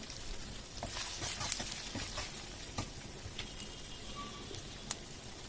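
Chopped onion with ginger-garlic paste sizzles in a hot pan of stuffed brinjal masala curry, a steady, quiet frying hiss broken by a few sharp pops and crackles, with no voices.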